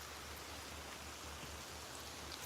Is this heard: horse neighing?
no